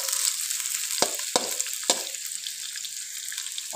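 Sliced onions sizzle in oil in a chicken handi pan, a moderate, steady frying hiss broken by three sharp clatters of a spoon or ladle against the pan.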